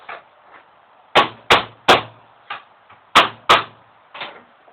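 Sharp hammer blows pounding T-nuts into a kneeler board, several loud close wooden knocks in uneven pairs and groups with softer taps between them.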